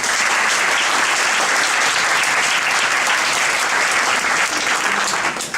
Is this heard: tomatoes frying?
no